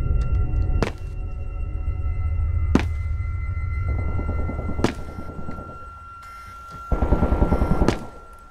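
Gunfire in the video game SCP Containment Breach: a few sharp single shots spaced a couple of seconds apart over a steady droning hum, followed by a denser burst near the end.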